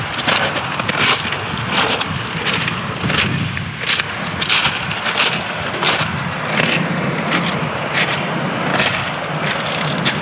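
Cold wind on a grey sandy beach at Penzance in Cornwall: a loud, continuous roar buffeting the microphone, with repeated gusty bursts rising and falling throughout and no voices.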